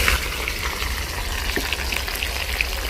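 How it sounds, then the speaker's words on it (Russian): Peppers frying in a pan as part of a Tajik eggplant salad, a steady close sizzle and crackle running throughout without voices. "Поэтому мы его жарим до полусырого."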